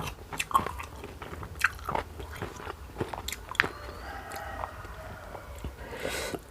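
Close, wet chewing and biting of raw beef larb (laab khom), with soft smacks and squelches at an irregular pace and faint background noise.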